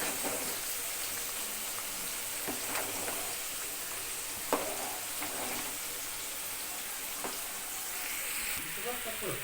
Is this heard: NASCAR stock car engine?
no